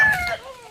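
A live chicken being sold gives a short, close squawking cluck, one sharp call that trails off into a fainter rasp.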